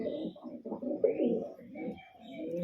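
A Kaldoma pigeon cooing up close, soft rolling coos repeating in uneven bursts with brief pauses, fairly clear against a quiet background.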